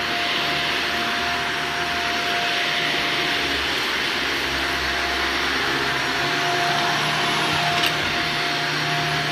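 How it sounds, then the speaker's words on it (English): A carpet-cleaning vacuum runs steadily in a large empty house, a constant loud whine and rushing hiss with a fixed tonal hum, continuous and close with no talk. "I think this is enough vacuuming video for this one."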